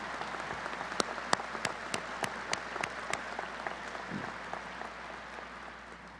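An audience at a graduation ceremony claps steadily for several seconds, with a few sharp individual claps standing out near the start before the applause evens out and slowly thins.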